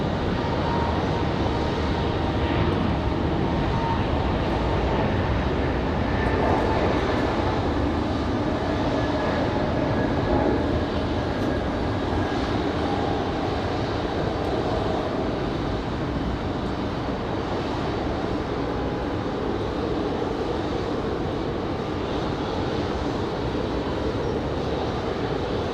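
An Air France heavy jet, a Dreamliner, on the runway at Raleigh-Durham airport, a continuous loud broadband engine roar holding steady throughout, with no voices.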